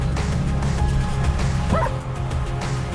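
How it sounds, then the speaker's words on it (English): Scout the dog barks repeatedly at tree limbs at a snowy campsite, loud close woofs and yips in quick bursts, with a brief whimpering whine in the middle. "Scout likes to bark at the limbs on the trees."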